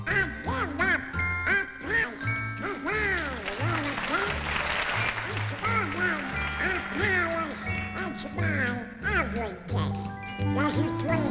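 A man imitates Donald Duck's quacking voice to sing a song at a 1961 amateur talent show, rapid squawky phrases in rhythm over a bouncy instrumental accompaniment, with applause breaking in.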